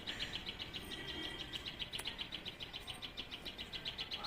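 A small sparrow-like bird near a parijat flower chirps in quick, rapid repeated bursts, faint and steady against a soft garden background with no talk.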